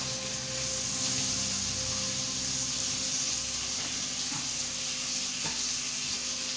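Steaks sizzling in a pan after being flipped: a loud, constant hiss of frying that holds steady from start to finish, with a few faint scrapes underneath.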